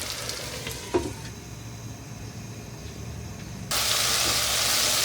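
Tomatoes cook in a covered pot with a steady, close sizzle and hiss, a faint clink near the start, then the hiss jumps suddenly louder and brighter for the last stretch; no talking.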